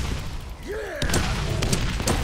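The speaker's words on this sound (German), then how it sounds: "Feuer und Explosionen" Gunfire and explosions in the Borderlands video game, a dense burst of blasts and shots with swooping synthetic effects, loud and continuous throughout.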